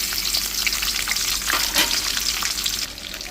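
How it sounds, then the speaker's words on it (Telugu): Dried fish frying in hot oil in a kadai, a loud, steady broadband sizzle with a brief flare of stirring midway, close and continuous with no voices. "ఆయిల్ వేడెక్కాక ఇందులో ఇప్పుడు మనం కడుగు పెట్టుకున్న ఎండు చేపలు వేసేసుకుందాం."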